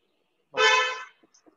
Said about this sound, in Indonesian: ada bunyi klakson nih